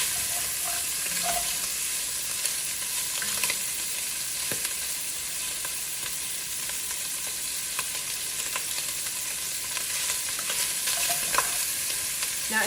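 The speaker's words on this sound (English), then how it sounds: "we're going to use that to help cook the onions and the garlic and the other vegetables" Onions, garlic and other vegetables frying in rendered Italian sausage fat in a single pot, a dense continuous sizzle with faint crackles and occasional spoon scrapes, close and steady with no speech.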